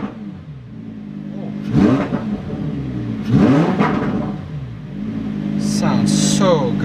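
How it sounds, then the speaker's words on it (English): A Lamborghini engine in Corsa mode revs in a few rising pulls, each climbing and falling back to a rumbling idle, loud and close, with a high whine near the end. "Rev it up in Corsa mode."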